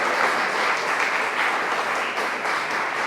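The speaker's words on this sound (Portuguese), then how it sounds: "Vamos levantar aplauso ao Senhor bem forte, queridos" A church congregation applauds loudly in a steady, sustained wash of clapping, dense and unbroken throughout, with no talk over it.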